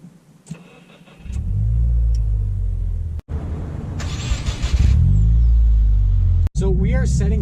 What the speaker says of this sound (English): So we are setting off here in the 2018 WRX, and like I said, this has that manual transmission in it